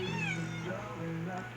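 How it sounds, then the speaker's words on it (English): A pet cat meows indoors in a house, a drawn-out, fairly close call that runs with the faint hum of the room behind it. "and that's her pet cat, Max."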